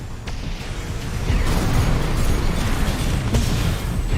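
Fusion laser cannon blasts in the mech combat game Armored Core 6, a run of heavy booming explosions with sharp cracks near the start and end, loud and layered over a low mechanical rumble.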